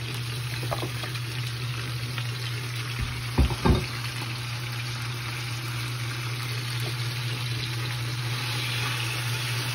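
Chicken frying in a pan, a continuous dense sizzle with a constant low hum underneath and a couple of brief thumps from handling partway through, close and steady with no talking.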